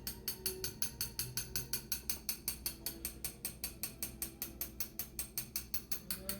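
A hand-cranked sifter works chocolate and flour for crepes, its ratcheting mechanism clicking in a fast, even rhythm of about four clicks per second, close and steady throughout.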